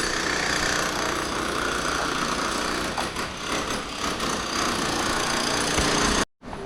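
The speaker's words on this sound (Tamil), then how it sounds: "இங்கே ஏதோ கன்ஸ்ட்ரக்ஷன் ஒர்க்கர் ஏதோ பண்ணிட்டுருக்காங்க, ஒரே சத்தமாக இருக்குது." Construction work in Madurai makes a loud continuous mechanical engine drone, steady and close, with faint rattling and vibration before cutting out abruptly near the end.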